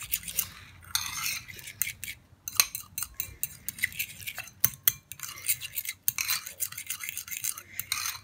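Half a tablespoon of honey worked into a pressed paste in a bowl with a spoon, giving repeated scraping and clinking strokes in uneven bursts, fairly close, with no voices.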